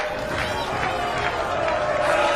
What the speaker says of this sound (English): could one man make so much noise in this crowd?